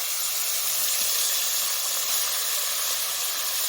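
Koi fish frying in hot oil in a village kitchen give off a steady, even sizzle and hiss that holds unchanged throughout, with no voices over it.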